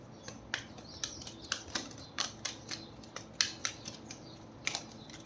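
Tarot cards being shuffled, heard as a run of crisp, close snapping riffles and flicks about twice a second over a quiet background with no talk.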